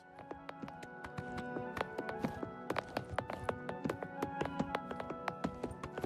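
Horse hooves clip-clopping in the video game Oblivion, a quiet run of sharp, irregular hoof taps over a soft musical bed, picking up toward the end.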